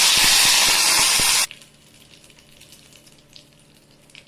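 Loud, dense sizzling of curry leaves dropped into hot oil with crackling mustard seeds in a kadai, lasting about a second and a half, then cutting off to quiet background crackle.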